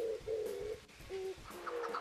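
Turtle doves coo in soft repeated phrases, several low purring notes with short gaps, near and alone against light background noise.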